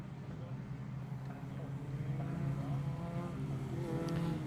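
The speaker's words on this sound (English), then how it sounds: "Cars onto the circuit here at Silverstone for Heat 2 of the 2024 Walter Hayes Trophy" Race cars head onto the Silverstone circuit for Heat 2 of the 2024 Walter Hayes Trophy, a steady engine drone at moderate distance that swells gradually and holds without any voices.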